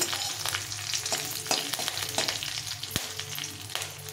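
Mustard seeds, cumin and curry leaves frying in a pan for upma: a loud, close, crackling sizzle with occasional sharp stirring clicks and pops, no voices.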